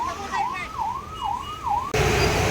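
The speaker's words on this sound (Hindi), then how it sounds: "एक एम्बुलेंस के लिए रास्ता बनाया तो यहाँ पे दूसरी एम्बुलेंस आगे फंस गई है" An ambulance stuck in a traffic jam at Shilphata wails with a loud, steady rising-and-falling siren for about two seconds, then gives way abruptly to dense, close road noise.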